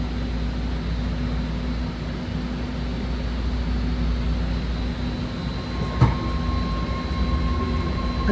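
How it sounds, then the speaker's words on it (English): A six-car BART Red Line train pulls out of South San Francisco station, a steady rumbling hum with a whining motor tone heard from inside the car, and a brief clunk partway through. "here we are pulling out of South San Francisco with our next stop being Colma"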